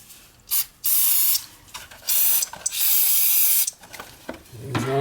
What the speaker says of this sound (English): I usually like to get in there and clean that carbon off that thing if I can. A little carburetor cleaner.